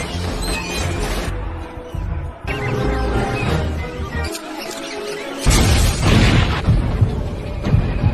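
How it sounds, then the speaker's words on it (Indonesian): Rats explode inside a textile factory in a film scene. Heavy booms and crashing blasts pile up over a dense, loud score, with a brief drop before another powerful surge. "Setelah beberapa tikus meledak"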